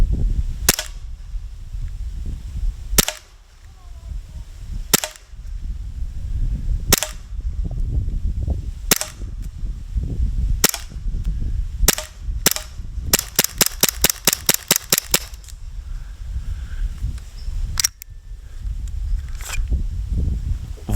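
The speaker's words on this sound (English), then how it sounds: "we're going to shoot it down the range and see what I can hit" An officially licensed Glock 17 BB gun fired down a range: sharp single pops spaced a couple of seconds apart, then a rapid burst of about a dozen shots, then more single shots.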